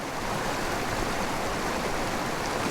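Steady, close rush of a small side stream pouring into a mountain creek, a continuous broadband wash with no voices.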